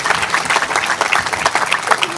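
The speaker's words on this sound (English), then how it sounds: "So please give them a round of applause for them." Audience applauds a community group at a Bush Hills health event in Alabama, a dense steady wash of clapping hands from a crowd, loud and continuous throughout.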